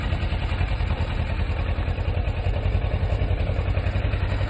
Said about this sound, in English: slowly start letting off the clutch, and you'll feel the bike start to move